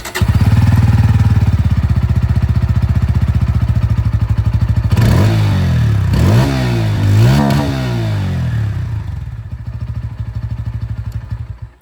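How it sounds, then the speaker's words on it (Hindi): A Bajaj Pulsar N160 motorcycle with an underbelly exhaust idles with a loud, close thumping putter, then is revved sharply three times in quick succession before settling back to idle and fading out. "सबसे पहले साउंड में आप लोगों को यहाँ पर N160 की सुना देता हूँ"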